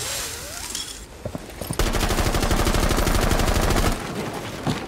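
Sustained automatic gunfire in Rainbow Six Siege during a House hostage team deathmatch, a fast loud rattle of shots running for about two seconds after a few scattered earlier reports, then cutting off abruptly.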